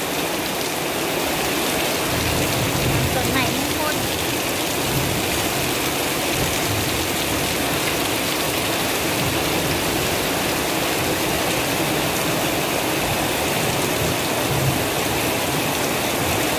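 Heavy storm rain in Chiang Mai pours down in a dense, steady hiss across the whole stretch, loud and unbroken, with a few low rumbles beneath and no talk.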